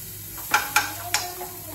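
Onion sizzles in hot oil in a pan, a brief crackling hiss with three or four sharp scraping strokes close by and no talking.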